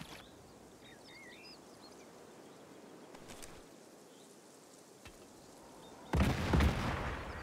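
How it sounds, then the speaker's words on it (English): A grenade goes off in a doorway in Sniper Elite 5, a loud close blast near the end following quieter distant thuds and ambient insect and bird sounds. "I need to get a grenade in that doorway"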